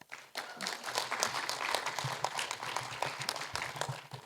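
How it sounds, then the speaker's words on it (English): Podcast audience giving a round of applause, a continuous dense patter of many hands clapping together, fairly quiet and evenly sustained. "a round of applause"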